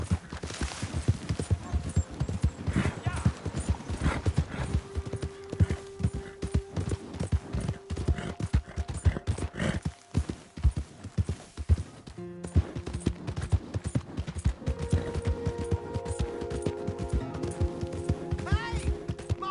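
Rhythmic hoofbeats of a horse galloping in a PS4 video game, clip-clopping steadily and fairly close, with a brief break midway before the pounding resumes, a few game voices calling out around it.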